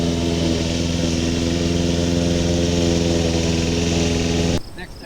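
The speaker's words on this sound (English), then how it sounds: "First thing up on today's agenda is mowing this clover plot for the last time." A lawn mower runs loud and close while mowing a clover plot, its steady engine drone holding even before cutting off abruptly near the end.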